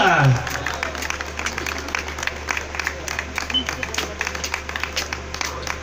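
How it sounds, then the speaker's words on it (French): An outdoor crowd at a hill-climb running race podium claps steadily for a runner-up woman, a dense patter of many hands at moderate distance with a loud voice over a PA system on top. "Applaudissements pour la Miss"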